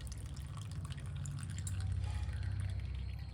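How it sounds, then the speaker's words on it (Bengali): Water poured over a Gopal (Govinda) deity idol during a daily bathing ritual, a steady close splashing and trickling that runs on without a break and builds slightly toward the end. "এবারে গোবিন্দকে সুন্দর করে স্নান করিয়ে নেব।"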